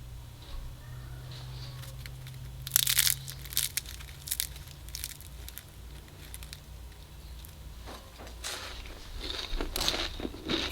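Crisp fried egg roll being cut and bitten, giving several sharp, close crunches in uneven bursts over a low steady background hum, with no speech.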